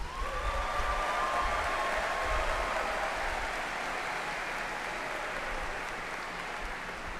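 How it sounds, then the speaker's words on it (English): Another round of applause for doctoral graduates at a summer commencement ceremony, a soft, steady wash of distant crowd clapping heard in a large hall. "Please join me in extending another round of applause for our doctoral graduates."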